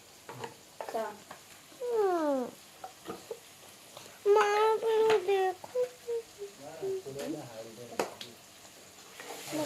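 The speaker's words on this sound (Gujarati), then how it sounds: "ટામેટાને થોડું છે ને ગ્રેવી થતા સુધી છે ને અને ચમચાથી થોડું હલાવવું પડશે" A spoon stirs tomato gravy frying in a pan, with a soft scraping and sizzling under intermittent voices and high-pitched vocal sounds nearby.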